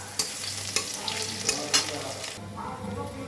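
Chopped garlic sizzles in hot oil in a wok, with soft sputtering crackles and a few scraping stirs over a steady low fry.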